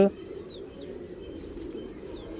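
A pigeon softly cooing nearby with low, murmuring tones over a quiet background, plus a few faint higher chirps and light handling noise.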